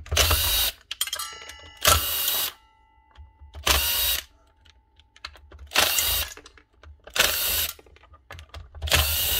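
Cordless power drill spinning screws out of a power tool casing during a workbench repair, in several loud bursts of about half a second each, separated by quiet pauses with faint clicks and handling.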